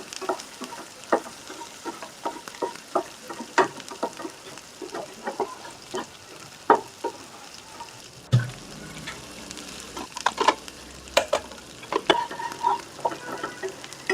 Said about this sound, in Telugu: ఎగ్ కొట్టేసాక తిప్పేసేయండి అమ్మటే